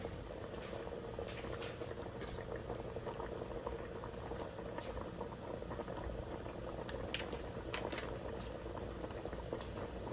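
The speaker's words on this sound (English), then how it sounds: "I have my pot boiling here" A pot of water for rice at a steady rolling boil, bubbling and pattering continuously without letup, close by and fairly loud.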